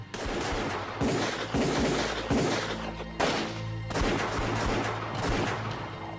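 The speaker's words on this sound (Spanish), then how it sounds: "Recibimos disparos de los guerrilleros. Murieron 2 soldados, así que empezamos a disparar." Heavy gunfire in a battle between soldiers and guerrillas, loud and sustained, with dense bursts of shots and booming impacts repeating every second or so, alone without talk.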